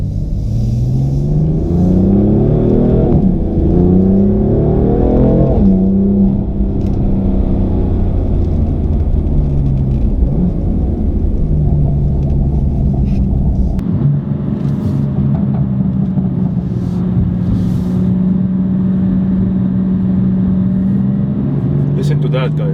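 A BMW M4 LCI Competition with M Performance parts revs and accelerates loudly up close, its engine note rising and falling in steady waves for about twenty seconds, then settling into a lower, rumbling drone with occasional crackles.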